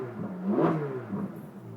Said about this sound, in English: That's the Ferrari sound right there.